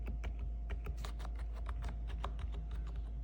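Steady, brisk typing on a Redragon K512 Shiva mechanical keyboard, quiet soft key clicks in a quick irregular rhythm, close up and alone.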